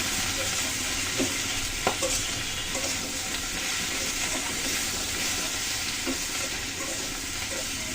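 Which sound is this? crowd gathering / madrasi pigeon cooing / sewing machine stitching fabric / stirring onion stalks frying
stirring onion stalks frying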